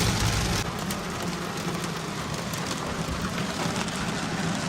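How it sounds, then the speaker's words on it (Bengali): Heavy rain pours down in a dense, steady roar that fills the scene at close range and stays loud throughout, with no voices. "এত জোরে বৃষ্টি হচ্ছে"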